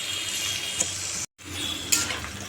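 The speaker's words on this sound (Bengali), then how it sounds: "গোল গোল করে আলু ভেজেছি আলু ভাজছি" Round potato slices sizzle in hot oil in a pan, a steady close frying hiss with a couple of brief stirring clicks and a short cut midway.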